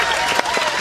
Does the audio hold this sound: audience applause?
yes